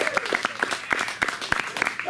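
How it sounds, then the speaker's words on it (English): A concert audience claps for the bass guitarist of an electric band, with distinct individual hand claps close by over a scattered crowd and a voice running over the applause. "Please give him a big round of applause."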